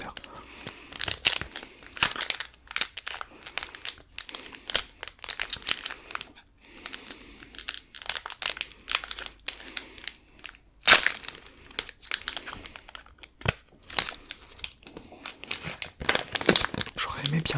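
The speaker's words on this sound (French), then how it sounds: "On est là pour ouvrir les boosters." Pokémon booster pack wrappers being opened, from a Stars Étincelantes tripack, make close, loud crinkling and tearing foil rustles in irregular bursts with short pauses, and a voice talks over parts of it.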